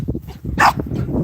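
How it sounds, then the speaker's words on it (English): Dogs barking nearby in a short burst of sharp barks and yips, one loud bark standing out in the middle against a noisy background. "These are my sister's dogs."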